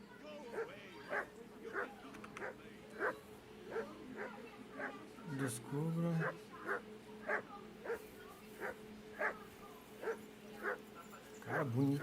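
A dog in a video game barks in a steady, repeated rhythm, roughly one bark per second, with a brief whimper near the middle and game ambience underneath.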